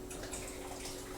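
A cup of cold water is poured into Swedish egg coffee made with eggshell, giving a soft, continuous trickle and splash at low volume.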